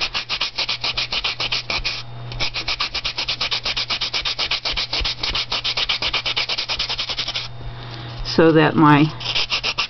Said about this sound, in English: Now I'm going to take my sanding block